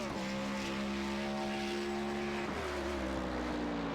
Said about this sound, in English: Great noise these Chevrolet cars, these Cadillacs make, as Heyerdahl runs wide out of Hawthorne.